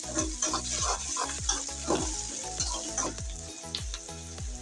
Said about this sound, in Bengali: এখন ভালো করে পেস্টটা আমি তেলের সাথে ভেজে নেব।